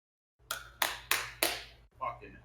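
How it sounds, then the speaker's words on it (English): A few people at an open mic night clap four distinct, sharp, spaced claps, close and reverberant, followed by a softer fifth burst, with a low hum underneath. "Give her the applause she deserves."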